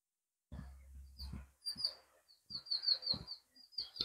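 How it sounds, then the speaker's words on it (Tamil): Birds in roadside trees near open fields chirp in short, high, repeated bursts at a moderate distance. Dull low knocks and handling noises come in between the calls. "நிறைய பறவைகள் எல்லாம் இருக்கு."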